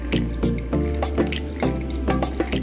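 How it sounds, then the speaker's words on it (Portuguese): Water poured slowly onto ground organic coffee during a manual brew, a soft trickling with repeated small drips and splashes at close range, no one talking. "Segunda água. Joga no centro, vai distribuindo para as laterais lentamente."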